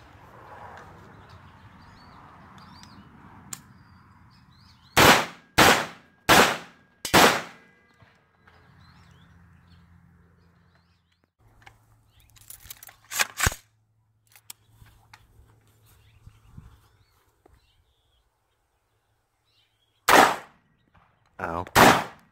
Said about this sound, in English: What are you shooting at?